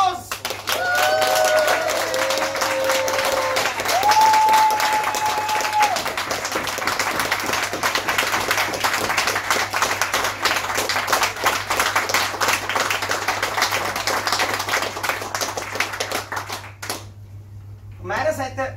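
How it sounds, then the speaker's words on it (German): Audience applause in a pub at a short-film evening, a dense, sustained burst of clapping under a voice that speaks over it at first, continuing for many seconds before cutting off abruptly near the end. "Das ist euer Applaus!"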